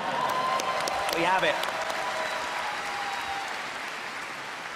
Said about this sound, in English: It's when we're clapping.